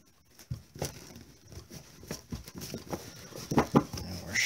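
Magic: The Gathering cards from a Sliver Commander deck being shuffled by hand, a run of soft, quick papery riffles and flicks that grow busier and a little louder toward the end, close by with no talking.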